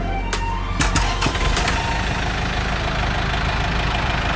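A Yanmar EF494T 49 hp tractor engine runs with a steady, loud mechanical drone and knocking rumble, with a few sharp clanks near the start and no speech.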